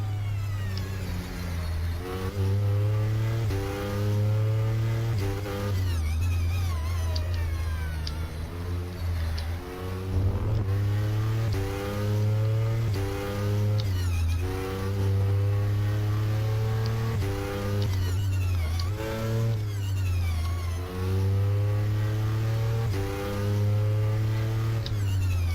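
A simulated Audi R18 e-tron quattro racing around the Nordschleife in rFactor, its engine whining loudly and continuously, the pitch climbing and dropping through repeated rev sweeps and gear changes, with no talking.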